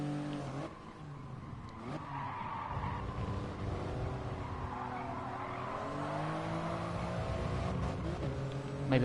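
A race car in GT Sport brakes hard into Paddock Hill, the engine note dropping under a long smeared tire squeal, close and steady throughout with no talk.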